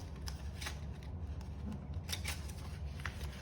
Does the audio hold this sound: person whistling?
no